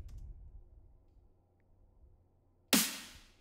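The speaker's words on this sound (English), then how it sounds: "So yeah, the snare sounds like this." A future bass snare drum with reverb and overdrive, one loud bright hit near the end ringing out in a long reverb tail after near silence.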